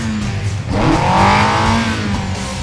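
A race car engine revs up hard at the start of a downhill mountain race, the roar rising and holding loud and close over a short burst, with a faint hint of tire noise.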